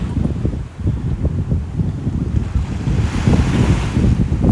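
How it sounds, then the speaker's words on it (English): Waves crash on a small New York City beach, a continuous low roar and wash heavily mixed with wind buffeting the microphone, loud and close with a rising surge near the end. "I love the sound of crashing water too."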